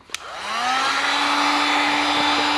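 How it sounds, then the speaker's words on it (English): A heat gun spins up after a click and then blows a steady loud whirring roar with a high motor whine, used to shrink a fishing rod grip, close up and continuous, no talking. "I got my heat gun here"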